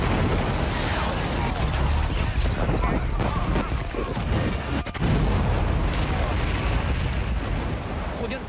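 Rumbling, booming explosions from an action film scene, dense and continuous with crackling debris and mechanical clatter, mixed under overlapping voices.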